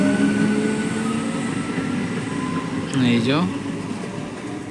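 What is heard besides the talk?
passenger train moving through a station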